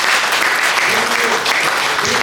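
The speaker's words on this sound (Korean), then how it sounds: "큰 박수 한번" A crowd at a Martin Luther King legacy dinner applauds a pastor with continuous, full clapping from start to finish, with faint voices mixed in.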